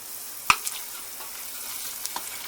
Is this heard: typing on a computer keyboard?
no